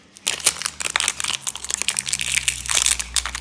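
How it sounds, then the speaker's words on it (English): Crinkly plastic packaging of a Smooshy Mushy cupcake toy being opened from the bottom, close and loud, with repeated crackling and crumpling bursts running continuously throughout. "I'm just gonna open it from the bottom."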